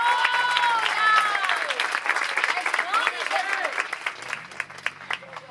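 A church congregation applauds in sustained, dense clapping that rises and falls. A preacher's voice speaks over the applause.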